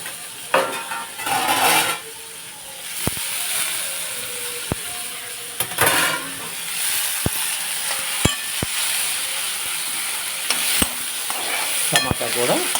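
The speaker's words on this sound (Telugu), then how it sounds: "టమాటా కూడా వేసాను, ఇలా కలుపుతున్నాను." Chopped tomatoes sizzling in a pan of cluster bean curry while a spoon stirs them, with steady frying crackle, scraping strokes and sharp metallic taps against the pan rim, close up.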